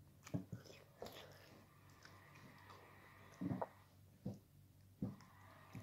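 Crunchy bites and soft chewing of Belgian chocolate seashells, close to the mic, several distinct crunches spread across a quiet background with little else present.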